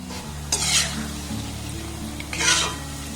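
Mango and semolina fritters fry in hot oil, a steady bubbling sizzle with two louder bursts of crackle, likely from stirring or turning, close and continuous without any voices.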